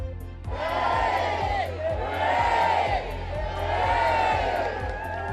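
Crowds cheering for King Charles and Queen Camilla on the first official day of their royal tour of Australia: loud, sustained outdoor roars and whoops rising and falling in waves, dense massed voices filling the space.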